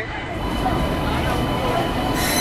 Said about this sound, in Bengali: আর এই যে আমাদের ট্রেন চলে এসছে